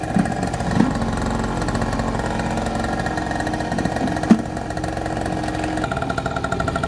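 A repaired engine machine runs at a steady idle close by, with an even mid-pitched drone and a couple of brief knocks.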